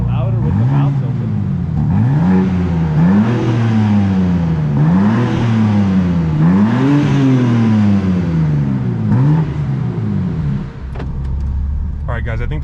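A BMW M2 with a muffler delete revs repeatedly, loud and close, its engine note rising and falling in steady surges over several seconds with a steady background drone.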